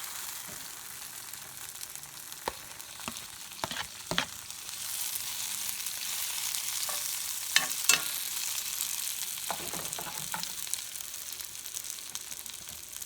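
Peppers for fajitas fry in a pan with a steady crackling sizzle, punctuated by occasional sharp pops and utensil clicks, the hiss swelling slightly in the middle.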